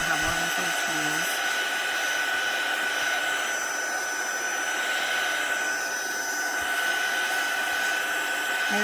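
Heat tool or blow dryer aimed at playing-card paper, a steady loud blowing roar with a constant high whine running through it, close and unbroken throughout.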